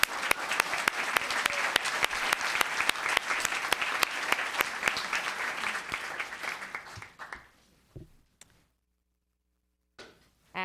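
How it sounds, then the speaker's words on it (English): Audience applause at a Los Gatos town council meeting, dense sustained clapping for about seven seconds that fades out, followed by near silence and a brief sound at the end. "One more round of applause for this special guy."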